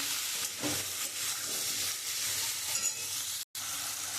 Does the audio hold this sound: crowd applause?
no